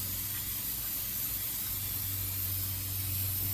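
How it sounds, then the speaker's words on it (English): Brake parts cleaner sprayed from an aerosol can onto greasy parts of a Cadillac Coupe Deville, a continuous loud, close hiss held steady without a break. "Go ahead and spray that grease and all that stuff off of"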